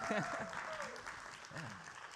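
An audience claps steadily to cheer on a speaker at a church talk, a broad wash of applause with a voice speaking briefly over it.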